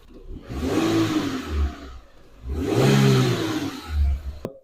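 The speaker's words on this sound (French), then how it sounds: "Maintenant, je vais accélérer" A Renault car engine revs up twice during a MAP sensor test, each rise swelling to a roar and falling back to idle, close and loud with no voices.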